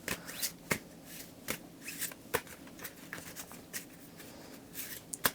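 An oracle deck being shuffled by hand during a tarot reading: close, crisp card riffles and slaps in an irregular rhythm of sharp taps, with no one speaking.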